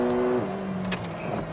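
A 2022 McLaren GT accelerating on a test drive, engine note climbing then dropping at a gear change, loud and close with road and wind noise underneath.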